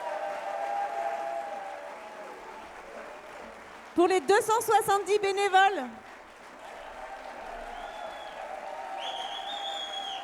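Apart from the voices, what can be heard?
festival audience applauding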